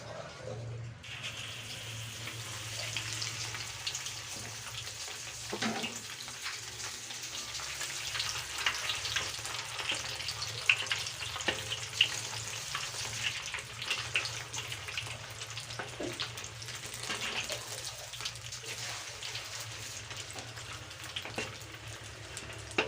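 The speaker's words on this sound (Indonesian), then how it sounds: "Kita goreng." Meat sempol sizzling and frying in hot oil, a steady crackling hiss that carries on for over twenty seconds, with occasional stirring clatter and faint background sound.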